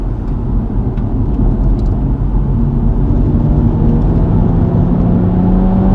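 A car engine in third gear with the driver off the throttle, a loud steady drone and whir as the engine holds the car back, with no voices.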